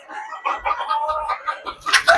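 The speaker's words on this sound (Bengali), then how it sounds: "এখানে মুরগিকে খাবার দেওয়া হচ্ছে আর মুরগিগুলো সব দৌড়ে দৌড়ে চলে আসছে।" Chickens gathered at feeding time give a busy run of close clucks and squawks in quick succession, with no talking over them.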